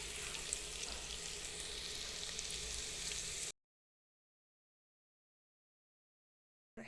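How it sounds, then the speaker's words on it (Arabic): Minced garlic frying in oil until golden, a close, even sizzle for a few seconds before dropping to silence. "هنقلب في الثومه كده لغايه ما تاخد اللون الذهبي الجميل."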